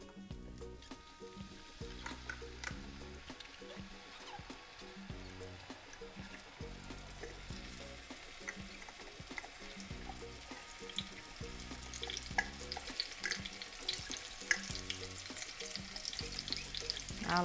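Steady, close sizzling of Indonesian bumbu spice paste frying in hot oil for nasi goreng, with occasional scraping and stirring sounds throughout.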